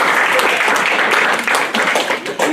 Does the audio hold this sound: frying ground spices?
no